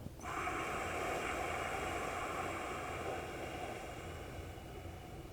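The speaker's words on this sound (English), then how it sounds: "Exhale, make it audible." A long, steady breathy exhale during slow yoga breathing, sustained and fairly even for several seconds, close and alone without talk.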